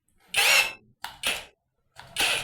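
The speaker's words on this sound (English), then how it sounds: "let us check on the drilling side" An Oraimo MaxDrill cordless drill runs in three short bursts with a high whirring motor, each spin-up separated by brief silences, close and loud.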